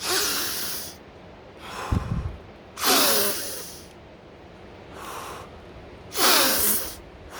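A person takes deep, rapid breaths before a cold shower while practicing the Wim Hof Method. The breaths are forceful and come close up, with about five loud hissing inhales and exhales separated by short pauses.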